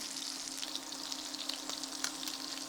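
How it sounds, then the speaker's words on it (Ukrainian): Potatoes and meat frying together in a hot skillet for a Carpathian Hutsul dish, giving a dense, even crackling sizzle with soft stirring scrapes, close and continuous with no voices. "І картоплю помішуємо."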